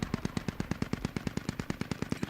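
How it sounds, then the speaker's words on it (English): A Striker armored vehicle firing in the game Squad: a steady, evenly spaced burst of heavy automatic cannon rounds, about eighteen sharp thumping shots, moderately distant and unbroken by talk. "Is that a striker shooting from Central Nova?"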